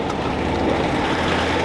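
A TD5 Land Rover Discovery 2 off-roader drives through a river, its diesel engine running at a steady, continuous roar mixed with broad water rush and splashing throughout.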